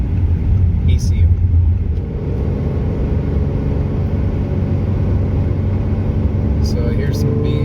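A car fitted with a Magnuson TVS 1740 supercharger, 034 Stage 2 Plus ECU and 034 TCU accelerates in third gear, a loud, steady low engine roar heard from inside the cabin.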